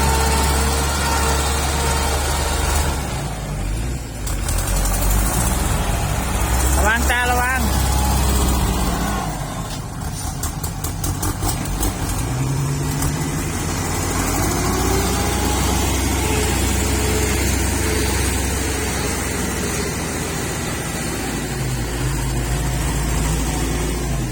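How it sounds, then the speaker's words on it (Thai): A heavy diesel tractor engine chugs and rumbles steadily throughout, loud and close, with brief clatters and rattles over the low drone. "เป็นรถไถ"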